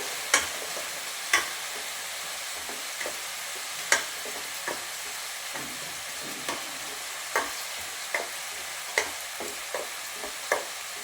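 Ground masala is stirred into a mushroom gravy with green peas in a pan, a spoon scraping and tapping against the pan roughly once a second over a faint simmering hiss, quiet and close, no voices.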